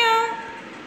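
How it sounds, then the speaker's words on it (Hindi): A single short, high meow rings out clearly and fades quickly, with no other sounds around it. "म्याऊं म्याऊं"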